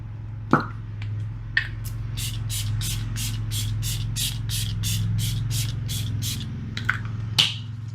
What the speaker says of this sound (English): For setting spray, I'm going to use the Catrice Prime and Fine Dewy Glow Fixing Spray.